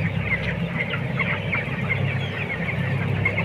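Broiler chickens crowd a hospital pen, a dense chorus of overlapping clucks and soft peeps that continues without a break at close range.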